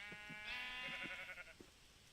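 A sheep in the Minecraft video game bleats in a short, wavering call with a few soft thumps beneath, fairly quiet and alone without talk.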